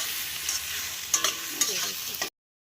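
Carrots sizzling in a pan as they fry with salt, with a steady crackle broken by a few scraping stirs and clinks before it cuts off abruptly.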